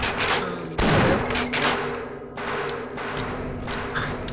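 Gunfire from a weapon in the video game Half-Life during a boss encounter: a loud blast followed by several rapid, sharp repeated shots and echoing impacts, with no talking over it.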